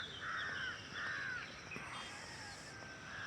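A crow caws twice in clear, harsh calls, then once more faintly at the end, set against quiet outdoor ambience with a distant higher bird note.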